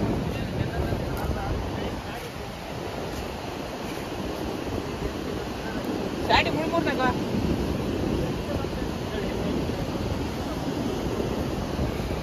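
Continuous rush of sea waves and wind buffeting close by on the coast at Murudeshwar, a steady broadband roar with a brief brighter splash partway through.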